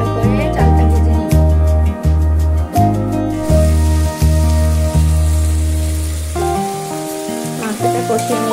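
Rice sizzles steadily in a pan with ginger paste, cumin paste and salt while chicken biryani is made, a continuous frying hiss under loud background music.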